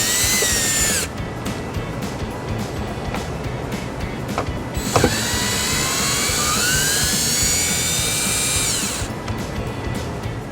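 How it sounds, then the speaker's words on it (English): An electric drill fitted with an 8mm socket whines close by while backing screws out of a 2014 Ford Escape, its pitch rising and falling through several long runs with brief pauses between. "I'll just take our electric drill,"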